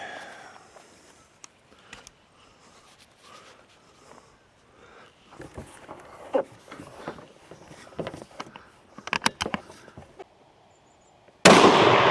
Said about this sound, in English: That first shot wasn't too good.